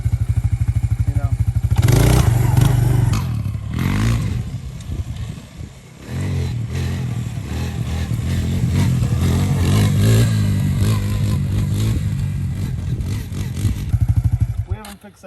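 A Suzuki LTZ 250 ATV engine idles and revs close by, a throbbing motor that rises and falls over several seconds with clattering and thumps, while people talk over it.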